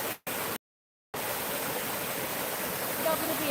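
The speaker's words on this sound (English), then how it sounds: "I love that waterfall." A waterfall roars as a steady, broadband rush of falling water, loud and continuous, briefly cut out twice near the start.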